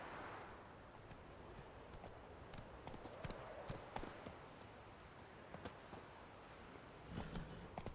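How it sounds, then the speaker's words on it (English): Hooves of a horse in The Witcher 3 clop along at a steady pace over faint wind, quiet and moderately close, with a few scattered sharper hits. "Run, Roach"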